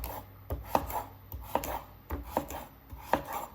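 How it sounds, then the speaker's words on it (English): A knife roughly chops butternut squash into cubes on a cutting board, with about eight evenly spaced thuds close by and no talking. "just rough chop"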